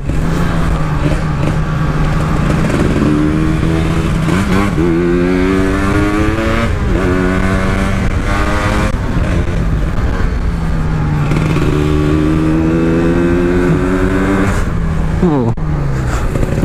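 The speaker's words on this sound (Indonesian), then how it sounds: "Mesin Ninja nih buat geber-geber ini." A Ninja motorcycle engine revved loudly and repeatedly up close, its rising and falling whine sweeping up and down in pitch, with people talking over the engine.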